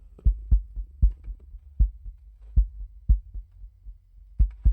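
A compressed kick drum plays back alone as a series of deep, punchy thumps in an uneven pattern, each with a short boomy tail.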